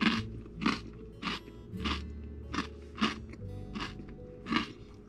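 Close crunchy bites and chewing while eating cream cheese topped with honey at breakfast, about eight rhythmic bursts roughly half a second apart over a low steady background hum.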